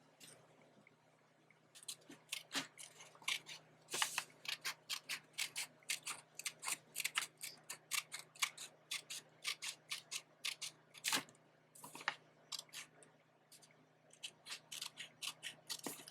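Scissors cut through 8.5 x 11 one-sided paper close up, giving a long run of crisp, rhythmic snips that are quiet but clear, with short pauses and no talk.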